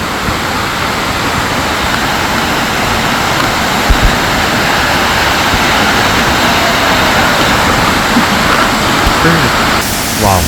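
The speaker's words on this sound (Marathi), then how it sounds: "हा धबधबा पुढे, मग हा धबधबा पुढे" Ranpat waterfall in Ratnagiri, Maharashtra, swollen by monsoon rain, roars as a constant, loud, broadband rush of falling water, steady throughout with no breaks.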